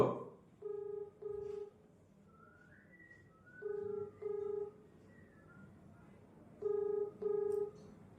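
Ringback tone of an outgoing phone call: three paired rings, two short beeps each, repeating at steady intervals with quiet gaps between, moderately loud over a faint background hum.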